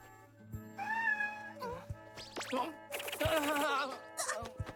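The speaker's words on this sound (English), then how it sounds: "You can't bring a cat with you to the hospital!" A cat meows clearly in an anime episode of A Certain Magical Index. The drawn-out meow comes early, followed by more animated sound effects and music.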